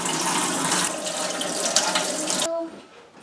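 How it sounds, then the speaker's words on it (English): A single-handle Delta kitchen faucet runs at full flow with both hot and cold open, a steady hiss of water into the sink that stops abruptly near the end and leaves near silence. "Turn on the water to both hot and cold and let it run a while."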